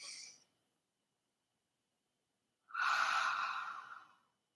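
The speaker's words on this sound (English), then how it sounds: "do some breathing exercises. Breathe in." Deep breathing during a calming breathing exercise: a short exhale trails off, then after a long silence comes one long, close, audible breath lasting over a second, with no voice over it.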